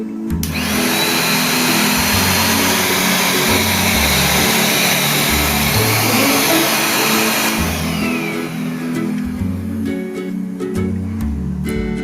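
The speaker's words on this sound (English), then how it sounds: "Okay, so let's try this vacuum cleaner if it will work and how good is the suction." A Lifepro 2-in-1 vacuum cleaner switched on for a suction test roars loud and steady, very close, with a high whine over a droning motor for the whole stretch, and a faint rattle of debris toward the end.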